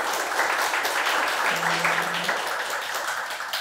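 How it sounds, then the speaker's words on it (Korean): An audience claps for a guest speaker at a university seminar, a steady burst of applause holding evenly throughout before tapering slightly at the end. "우선 저 박수로."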